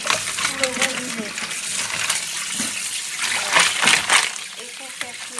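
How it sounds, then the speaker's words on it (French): A kitchen tap runs while razor clams are rinsed under it, with splashing water and clicking shells clattering in a bowl, close and steady, with a person speaking at times. "Je vais sortir de l'eau salée et rincer encore une fois plus de eau sous le robinet."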